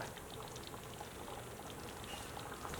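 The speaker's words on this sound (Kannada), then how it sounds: "ಲೋ ಫ್ಲೇಮಲ್ಲೇ ಇದನ್ನು ಒಂದು ಎರಡು ಮೂರು ಕುದಿ ಕುದಿಸ್ಕೊಳ್ಳೋಣ" Thick potato gravy (Bombay saagu) bubbles and pops steadily in a pan on a low flame, a continuous close-up simmering sound with no voices.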